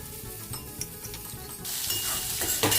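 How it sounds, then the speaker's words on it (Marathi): Chopped onion sautéing in a pan for onion rice, a steady close sizzle with soft scraping stirs throughout, growing louder and brighter toward the end with a few utensil knocks. "हा कांदा मात्र आपल्याला अतिशय छान पद्धतीनं असा परतवून घ्यायचा आहे"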